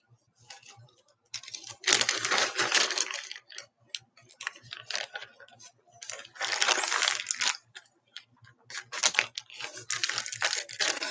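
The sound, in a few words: crinkling wrappings while pulling out ribbon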